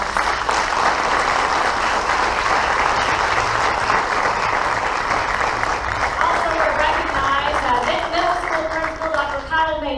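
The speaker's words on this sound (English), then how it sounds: "Let's give them another big round of applause." A board meeting audience gives a loud, sustained round of applause that continues throughout, with voices and some music rising underneath toward the end.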